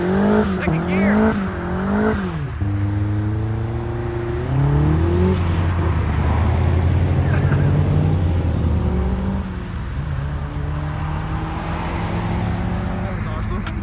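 Chrysler PT Cruiser GT with a catless downpipe pulls hard through the gears, engine tone sweeping up, dropping at a shift, then climbing again with turbo whoosh, loud and close; a voice speaks briefly over it.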